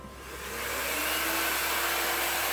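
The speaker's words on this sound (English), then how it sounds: "now we're about to blow dry. So I have my blow dryer" A handheld blow dryer runs steadily while drying hair during a salon-style styling session with thermal round brushes, its broad airy whir rising and then holding loud and close with no talk.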